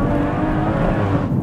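An 880bhp BMW M140i engine on throttle gives a loud, steady, close roar that holds for a brief moment.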